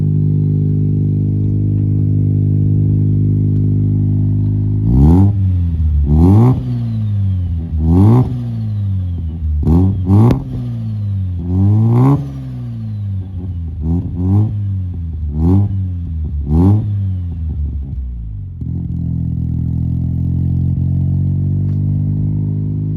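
A Mazda RX7 FC rotary engine revs repeatedly through a custom single-exit exhaust, with about ten sharp, loud rising blips over a steady idle before it settles back to a smooth idle.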